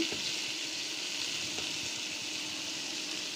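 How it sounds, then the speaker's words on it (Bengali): Marinated beef with ginger-garlic paste, turmeric, chili and garam masala goes into a pan of golden-brown frying onions, raising a steady broad sizzle that holds evenly with faint stirring scrapes underneath. "পেঁয়াজ অলমোস্ট ভাজা হয়ে গিয়েছে, এখন মেরিনেট করা মাংসগুলো দিয়ে দিচ্ছি।"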